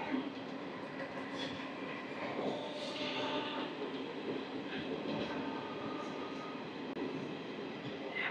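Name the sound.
Circar Express 17644 passenger train running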